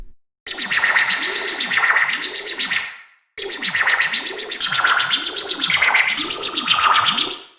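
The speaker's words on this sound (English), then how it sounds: "So I'm going to put on maybe a phaser," A synthesizer patch in Alchemy runs through phaser and reverb effects, giving two long sweeping tones with rhythmic swooshing filter arcs. A short gap separates the two passages, and the sound is loud and alone with no voice.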